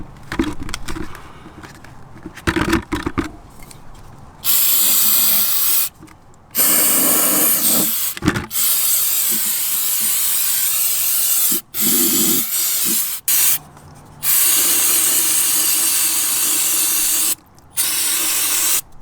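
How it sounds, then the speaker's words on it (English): Brake cleaner sprayed into the power steering system of a Land Cruiser 100 Series, loud sustained aerosol hissing in long bursts separated by short pauses, close up, with no talk. "I just ended up keep spraying it and closing it and shaking it up with brake cleaner"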